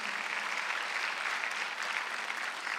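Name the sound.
church congregation clapping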